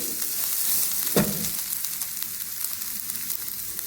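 Grated pumpkin and cumin sizzle steadily in a hot pan, a continuous close frying hiss with a brief louder crackle as more goes in, no voices.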